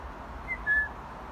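A nearby wild bird gives two short, thin whistled calls, the second slightly longer and louder, over quiet outdoor background.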